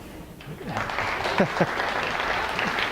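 Audience applause at a World Youth Day pilgrimage presentation, clapping that swells after a quiet start and carries steadily to the end, with a few voices and cheers mixed in.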